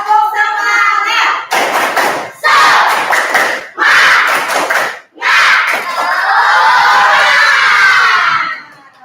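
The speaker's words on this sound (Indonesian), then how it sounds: "1, 2, 3. Tepuk semangat!" A class of children doing a rhythmic spirit clap chant, loud and close, with bursts of shouted voices and sharp clapping in patterned groups separated by brief pauses, ending in a longer sustained shout.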